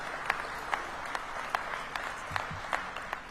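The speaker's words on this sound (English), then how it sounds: "I hope you feel that applause" Applause from a crowd at an event announcing the MLS All-Star Game in Washington, D.C., fairly faint and even, with sharper individual claps popping out at a regular pace over the broad patter.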